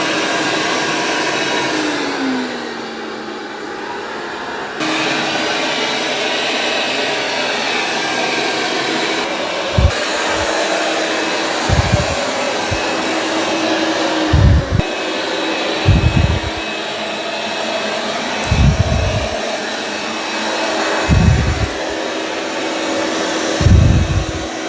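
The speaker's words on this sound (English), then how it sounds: "It can increase the suction when it senses it's on carpet." A Dreame robot vacuum running on carpet with its suction boosted gives a steady whirring drone, with periodic low thumps and surges as it moves along.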